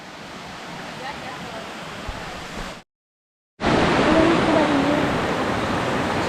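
Rushing water from the waterfall at Lembah Karaeng in Gowa roars as a constant broadband hiss, softer at first, then louder and closer after a brief silent gap, with faint voices in the background.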